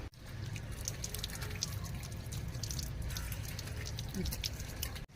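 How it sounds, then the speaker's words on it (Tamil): Raw mango rinsed under a running tap: a soft, steady trickle of water with small splashes and drips, quiet and close. "இப்போ வாஷ் பண்ணலாம் வாங்க."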